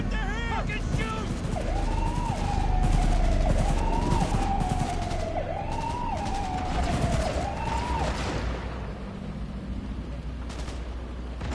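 Gunfire in the video game Cyberpunk 2077, rapid bursts of shots clattering under a wailing police siren, with brief voices near the start and the noise easing toward the end.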